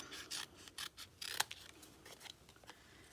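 Scissors snip and rasp through a paper square being trimmed for a lion collage, several quick close cuts in an irregular rhythm with no talking.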